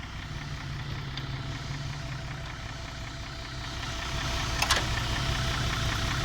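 A Mazda truck engine idles steadily at close range, a continuous low rumble with a slight rise in level near the end and a brief higher-pitched click around the middle.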